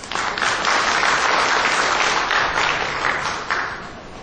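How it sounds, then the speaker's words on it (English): Audience at the 4th International Conference on Low Carbon Asia & Beyond 2018 applauding Prof. Ho after a speech; dense, steady clapping from a large room that holds for about four seconds, then starts to thin. "please give Prof. Ho a round of applause for the motivating, informative, resourceful, welcoming speech"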